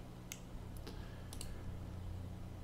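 Keys on a computer keyboard are tapped a few times to enter a drawing command, quiet scattered clicks over a low steady hum.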